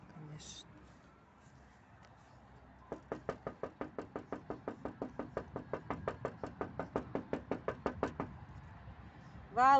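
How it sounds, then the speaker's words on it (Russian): Rapid knocking on a window of a run-down house, a steady train of about thirty sharp raps lasting several seconds, fairly close, with faint voices before and after. "Ты постучала хоть в окно ему там?"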